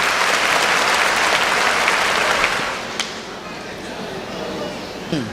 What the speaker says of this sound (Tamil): உற்சாகமான ஒரு கைத்தட்டல்.